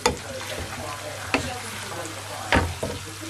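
Garlic caramelizing in butter in a pan for sweet chilli prawns, giving a steady close sizzle with a few sharp clicks of stirring, and no voices.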